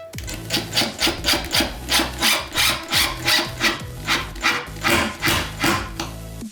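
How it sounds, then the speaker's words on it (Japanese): A power tool drives a screw into 2x4 lumber in rhythmic bursts, about a dozen loud, close pulses in a steady repeating pattern. "でこの穴にビスを打ちます。"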